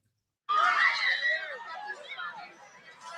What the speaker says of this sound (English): And someone else screamed again.